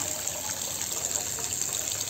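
Two eggs dropped into a basin filled with water, a steady watery gush and trickle running throughout at moderate level, with no talking.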